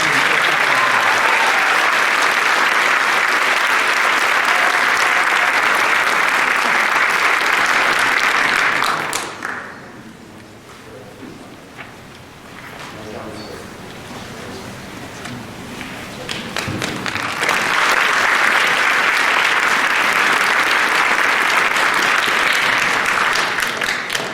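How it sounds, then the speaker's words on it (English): A school honors-night audience gives freshmen a big round of applause, steady broadband clapping for about nine seconds, dipping to quiet murmurs, then swelling again into sustained loud clapping. "How about a big round of applause for our freshmen?"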